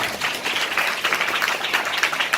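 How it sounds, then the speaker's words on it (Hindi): Scattered clapping from a church congregation during a Hindi Bible sermon, a modest patter of hands heard close and steady without speech. "यहाँ तालियों की जरूरत थी।"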